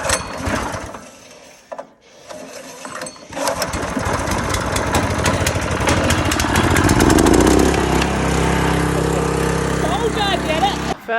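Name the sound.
petrol engine being started and running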